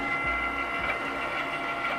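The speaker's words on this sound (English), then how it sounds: "Get ready to press that Cricut button." A Cricut cutting machine running indoors with a steady, quiet mechanical whir and faint motor hum throughout.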